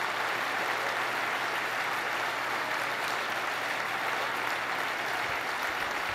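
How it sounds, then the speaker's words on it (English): A crowd at an outdoor show with skydivers and performers claps in a broad, steady wash of applause, fairly loud and continuous with no voice over it. "just want to give them another big round of applause"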